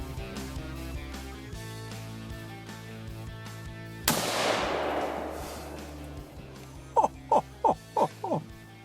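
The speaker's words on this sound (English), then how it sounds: "Did you shoot 3? You just shot 2 in one shot." Gunshots fired during a feral hog eradication hunt: one loud broadband blast mid-clip that decays slowly, after a stretch of steady background hum, followed by a quick run of four or five sharp short reports close together near the end.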